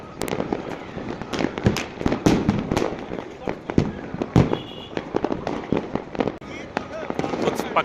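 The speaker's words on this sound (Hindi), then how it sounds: "पटाखे चला के पता नहीं क्या साबित करना चाहते हैं।" Firecrackers burst during a night celebration, with a rapid irregular string of sharp cracks and pops, some close and loud and others farther off, while a person talks over them throughout.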